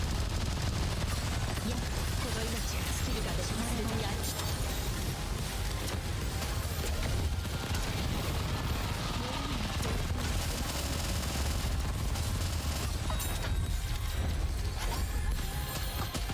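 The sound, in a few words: rockets firing in the video game Nikke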